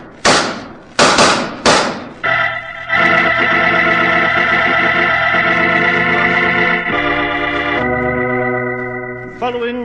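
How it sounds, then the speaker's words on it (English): A few sharp, loud bangs of an exchange of gunshots in quick succession in a Sherlock Holmes radio drama, then dramatic orchestral music swells and holds. "Following that exchange of shots, Roger Prescott died"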